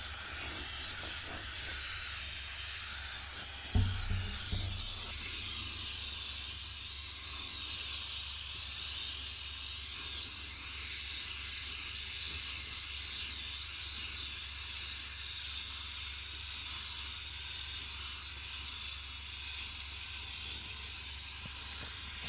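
A steam cleaner with its narrowest nozzle hisses steadily while cleaning a car vent, a loud continuous broadband hiss lasting throughout, with a brief low thump near the start and no talking.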